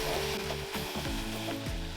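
Raspberries and strawberries cook with sugar in a pan, giving a close, soft sizzle with rubbing and stirring scrapes throughout and no talking.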